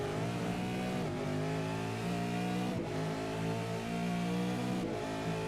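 V8 Supercars racing engines in a sim racing game on the Chicago street circuit, a loud continuous high-revving scream with a few sharp gear-shift dips as the cars run together.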